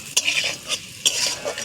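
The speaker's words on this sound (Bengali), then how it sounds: "হালকা আঁচে একটু সবকটা মশলা মিশিয়ে নেব।" Ground spices, Kashmiri chilli, cumin and coriander powder, stirred in a pan over low heat, giving a few scraping strokes against the metal with a soft sizzle between them, close and fairly quiet.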